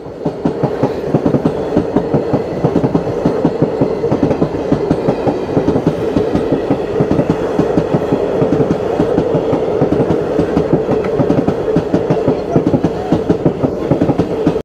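A local train passes close by in rural West Bengal, a loud, steady rumble carrying a rhythmic clickety-clack of wheels over rail joints throughout, with no voices.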